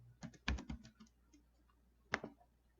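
Someone types a street address on a computer keyboard: a quick burst of several crisp key clicks, a pause, then one more short cluster of taps, close and quiet against a silent room.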